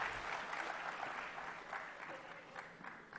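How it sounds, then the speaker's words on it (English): Audience applause at a professional branch meeting on GST returns, a steady, fairly faint wash of clapping from a room of members lasting throughout without a break. "A big applause"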